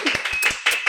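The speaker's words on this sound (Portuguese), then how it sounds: "Recebam Ana Lúcia Cozonara, uma salva de palmas!" Several sharp hand claps from a small studio audience greet a guest on a Portuguese-language podcast, a brief, close burst of clapping with no talk over it.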